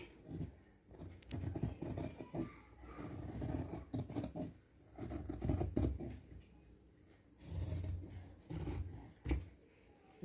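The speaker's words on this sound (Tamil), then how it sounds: "இப்போ இதை கட் பண்ணிக்கலாம்" Scissors cut through petticoat fabric in a tailoring class, giving close, repeated snipping and rustling with uneven pauses, fairly quiet and with no talking.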